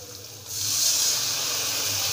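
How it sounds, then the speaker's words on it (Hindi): A little water poured into a hot pan of frying cumin seeds, bursting into a loud, sustained sizzle and steamy hiss after a quieter half second of frying. "तो मैं इसमें पानी डाल दूंगी हल्का सा"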